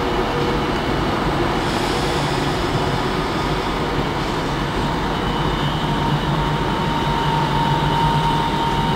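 Train arriving at a London railway platform, a continuous loud rumbling roar of wheels on track with a faint steady tonal whine, no speech.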